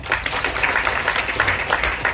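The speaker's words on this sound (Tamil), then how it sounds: "அவருக்கு ஒரு கைத்தட்டு தரலாங்க" An audience at a film trailer launch event claps in sustained applause, a dense, even patter of many hands continuing throughout.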